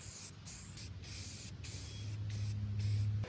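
A can of generic Rust-Oleum satin black spray paint hisses in several short close bursts with brief pauses between, the last spray running longer while a low engine-like hum sits underneath.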